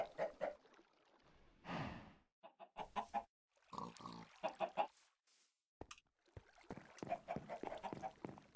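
Chickens cluck in a Minecraft-style farming game, several short bursts and one longer squawk spread through the clip, fairly close and clear with no talk over them.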